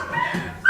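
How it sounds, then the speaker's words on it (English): A puppy gives a short whimpering yip followed by the start of another, close by and fairly loud during an indoor interview. "Puppy dogs."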